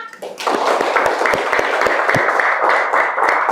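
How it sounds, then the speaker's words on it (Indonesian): A fourth-grade class claps hands at the end of an Indonesian language lesson, close, loud and somewhat ragged clapping with individual sharp claps audible, beginning after a short pause and continuing steadily to the end. "tepuk tangan dong untuk kita"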